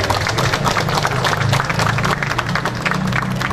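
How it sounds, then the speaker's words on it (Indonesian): Audience at a catalogue handover event clapping together, a continuous crowd applause filling the whole span with a faint voice underneath. "berikan tepuk tangan semuanya"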